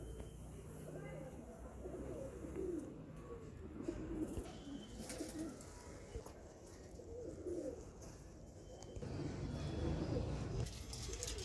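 Soft, low cooing of several Madrasi pigeons repeating in rolling bursts, with someone talking over them.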